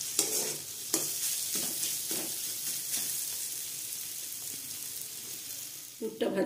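Shrimp filling for potato chops fries in a pan with a steady sizzle and occasional stirring scrapes, ending in a louder clatter.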